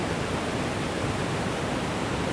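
Cachoeira da Chave waterfall in Votorantim, a dense, steady roar of falling water, loud and unbroken throughout, with no voices.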